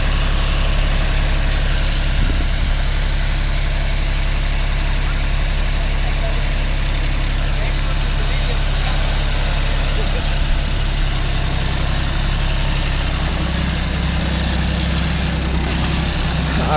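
A John Deere 5050D tractor engine runs steadily on dryland farm ground, a constant loud low rumble throughout with a voice talking over it.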